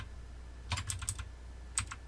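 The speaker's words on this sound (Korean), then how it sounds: "지금 이렇게 키보드로 움직이고 있죠" Keys on a computer keyboard clack in a few quick bursts, close and crisp against a low steady hum, with no one talking.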